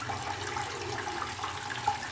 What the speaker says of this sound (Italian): per prima cosa riempio il secchio di acqua